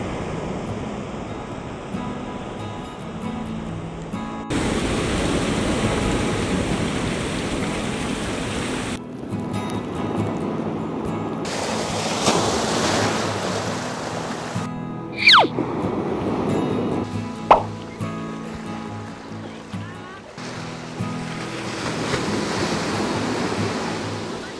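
Ocean waves break and wash onto a beach at Praia do Pontal, Arraial do Cabo, a steady roaring surf with surges and brief wind gusts, with no talk.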